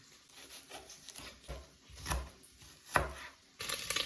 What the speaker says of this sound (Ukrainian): швиденько нарізаємо кубиками цибулю